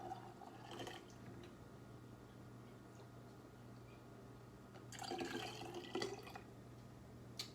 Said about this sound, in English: we will start filling our jars